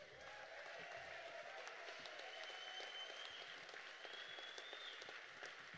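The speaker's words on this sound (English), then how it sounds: "please give them a round of applause" An audience at a benefit music event applauds steadily, with dense clapping from a sizable crowd that stays even throughout and has a few whistles over it.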